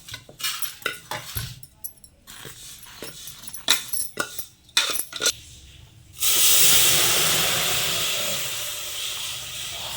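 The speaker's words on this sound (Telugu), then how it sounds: "ముందుగా సేమియా ఫ్రై చేసుకోవాలండి. బాగా నూనె ఫ్రై చేసుకోవాలి." Semiya (vermicelli) frying in oil gives a steady, loud sizzle that starts abruptly partway through and runs continuously to the end, preceded by clinks and scraping of utensils against the pan.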